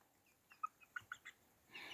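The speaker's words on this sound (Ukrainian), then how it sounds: "А тому в куточку дві курочки. Три навіть, чотири. О, тут багато буде курок." Several short chicken clucks and calls in a coop with hens and a rooster among young birds, coming in a loose sequence of close, fairly quiet notes, followed by a brief burst of rustling noise at the end.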